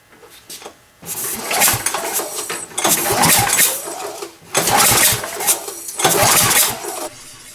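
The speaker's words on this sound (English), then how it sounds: "through all that noise, you might be able to hear a sound, and that's the cylinder head leaking" A Briggs & Stratton snow blower engine on a Craftsman machine runs with a leaking cylinder head, loud and close, its roar surging in repeated bursts with short dips between them.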